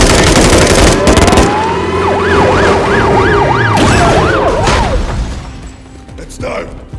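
An ambulance siren in the Call of Duty Modern Warfare 3 video game wails up and down loudly for a few seconds amid dense battle noise, with bursts of gunfire and voices in the mix.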